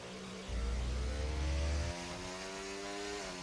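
Formula One car engine in the F1 24 racing game at Imola, a steady droning whine that rises into a loud low growl for about a second and a half before settling back to a quieter, sustained hum.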